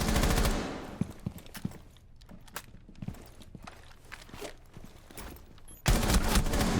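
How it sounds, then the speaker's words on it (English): Gunfire in Rainbow Six Siege, bursts of rapid automatic shots pre-firing through walls, loud dense volleys at start and end with scattered single cracks and footsteps between. "He's pre-firing through a lot of walls."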